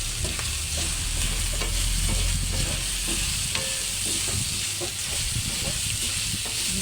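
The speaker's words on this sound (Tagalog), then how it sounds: "Gisa lang tayo ng gisa habang hindi pa na golden brown." Minced pork sautés in a hot pan for spaghetti, a steady close sizzle broken by repeated scraping stirs, with no pauses.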